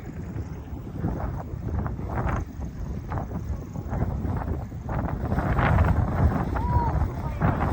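Strong wind buffets the microphone in a field during rice transplanting, a loud low roar that surges and gusts throughout, with faint voices talking beneath it.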